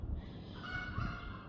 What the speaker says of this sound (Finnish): Tommonen kotkotus.